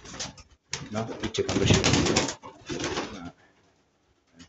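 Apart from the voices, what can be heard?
pigeons cooing in a loft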